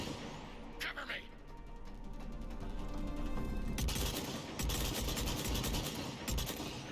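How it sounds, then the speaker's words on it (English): A sniper rifle fires rapidly in the video game Mass Effect 3, with sharp bursts of gunfire over a busy battle din, loudest toward the end and mixed with voices. "Damn, I am really letting off with that sniper. I don't think it's supposed to fire that fast."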